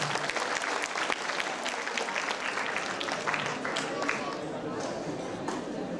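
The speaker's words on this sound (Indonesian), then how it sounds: "Tepuk tangan saudara." Audience applause at a Batak community event in California marking an independence anniversary: dense, steady clapping from a crowd, sustained and fairly close for the whole stretch, with scattered voices mixed in.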